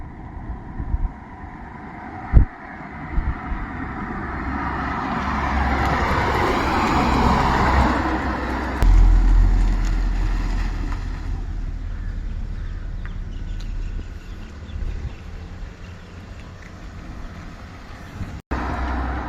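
A car cruises at a fairly high speed on a road near Chirayinkeezhu, Trivandrum, giving a steady broadband engine and road rumble with wind noise and a few sharp thumps, and no talking.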